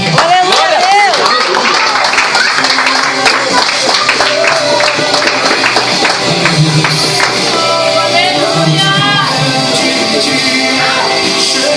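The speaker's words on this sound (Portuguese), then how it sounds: "aplauda o Senhor" A congregation applauds the Lord at an evening church service, with lively, sustained clapping and cheering voices mixed with music through the whole stretch. The sound is loud and continuous.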